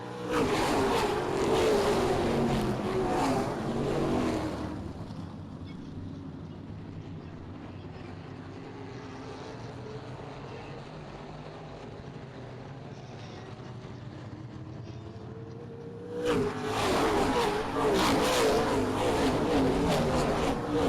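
Race cars at Springport Motor Speedway on a Saturday night roar loudly past, fade to a distant drone for several seconds, then surge back in close and loud.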